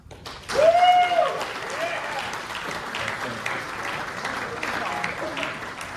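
Applause from the audience at a university football awards banquet fills the room, rising quickly after a brief whistle-like tone and then holding as steady clapping throughout.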